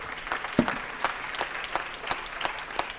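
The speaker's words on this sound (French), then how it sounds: "On peut l'applaudir encore." An audience at the 2015 Prix Entreprises & Environnement awards ceremony applauds, with dense, continuous clapping from many hands that stays at an even level throughout.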